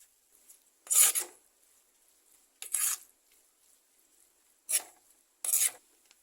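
Chopped onion and curry leaves sautéing in a pan for a pomelo curry, heard as four short raspy bursts of stirring and scraping with a faint sizzle, separated by quiet gaps and close to the microphone.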